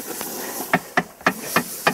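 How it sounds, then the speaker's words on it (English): Water is poured onto a red-hot iron tyre on a restored wooden wheel, giving a steady close hiss with five or six sharp sizzling spurts spaced about a quarter second apart. "As you can see, like, the water's boiling."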